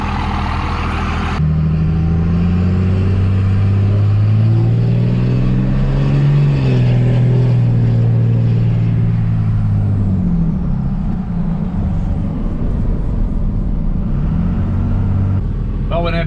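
A 2001 Dodge 3500 dually pickup with a 24-valve Cummins diesel drives along, its engine droning loudly and steadily, with the pitch rising and falling through gear changes. Wind and road noise sit underneath.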